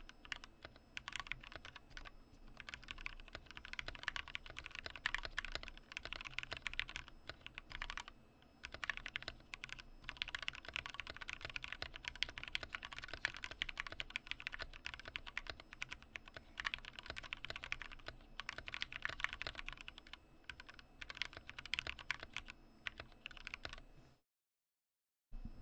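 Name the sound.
typing on a computer keyboard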